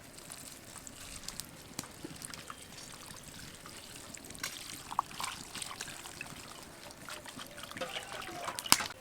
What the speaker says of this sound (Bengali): এখন আমি উপর থেকে ঠান্ডা জল দিয়ে দেবো।